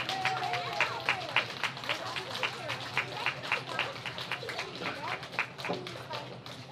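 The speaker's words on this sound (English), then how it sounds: "Let's give him a round of applause." An audience at a first-grade school awards ceremony claps for an award winner, a steady patter of many hands at moderate distance, neither loud nor faint, with some voices underneath.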